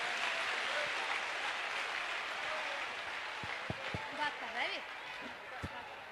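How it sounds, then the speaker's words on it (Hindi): A crowd at a religious gathering in India claps loudly and steadily, sustained applause with a few sharp louder claps and a voice briefly heard over it. "बिटिया के लिए खूब ताली बजाओ, खूब जोर से बजाओ"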